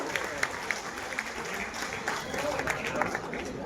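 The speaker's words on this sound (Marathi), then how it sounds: "माननीय रमेश तुकारामजी शिंदे यांच्यासाठी एकदा जोरदार टाळ्यांचा गजर आपण करूया" Audience applause at a Samata festival award ceremony in Bandra, a dense, steady wash of many hands clapping throughout, loud and close, with a few sharper individual claps standing out.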